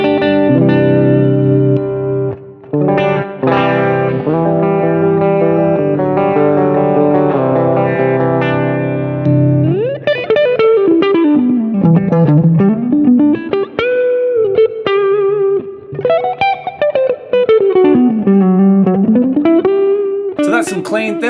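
Electric guitar played through a Strymon BigSky pedal on its hall reverb setting, sustained chords giving way to gliding, bending lead notes that wash into a long, spacious tail, loud and alone.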